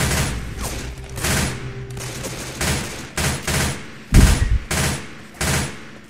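Tier 1 weapons firing in Left 4 Dead 2, with repeated sharp gunshot bursts and rapid volleys at an uneven rhythm, loud and close, including one heavier booming blast.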